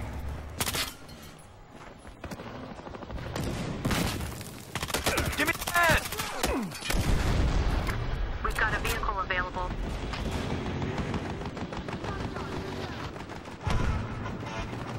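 Gunfire in Battlefield Hardline on Xbox 360, in an open-field firefight: repeated sharp shots and bursts, some close and loud, others more distant, scattered across the clip with a voice talking over them.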